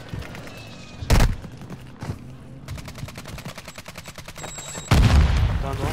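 Grenade and gunfire in the video game Warzone 2: two heavy booming blasts a few seconds apart, with bursts of rapid crackling shots between them, loud and close.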